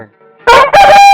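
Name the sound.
rooster crowing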